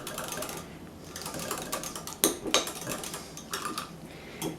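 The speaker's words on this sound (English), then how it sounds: "Give that a little stir." A metal spoon clinks and scrapes around a bowl while stirring yeast into warm water for homemade pizza dough, with irregular light taps and a few sharper knocks against the sides.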